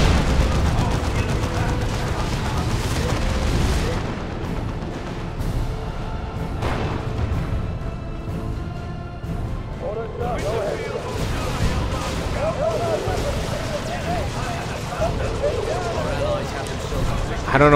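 Heavy D-cannon artillery fire booms out in a Dawn of War II: Retribution match, with repeated explosions and battle noise under a commentator's voice.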